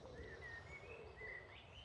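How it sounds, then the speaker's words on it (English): Birds singing on a hot summer morning, several thin whistled calls repeating over steady faint outdoor background, moderately distant and soft. "The birds are giving it some."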